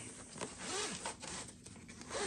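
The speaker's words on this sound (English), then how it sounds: "Let's unzip it and see what we got here." A zipper is pulled open along a large, durable carrying case for a JF.EGWO 3000 amp car jump starter and air compressor, one continuous close rasp lasting a couple of seconds with no talk.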